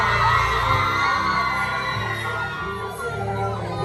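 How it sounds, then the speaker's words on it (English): A dense crowd of girls at an outdoor dancehall concert in St. Ann, Jamaica screams and cheers together, a loud sustained roar over booming low music that eases slightly toward the end. "Let me see independent girls scream out in our place"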